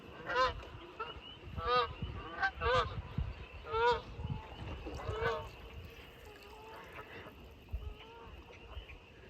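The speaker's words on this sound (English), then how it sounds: "I hear the tiniest quacks coming from over there." Faint, high little quacks and honks from baby ducks come in scattered bursts from a distance over quiet rural outdoor background noise.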